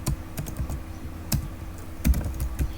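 HTML code is typed on a computer keyboard into Notepad, with irregular, close key clicks in small bursts and a heavier keystroke now and then.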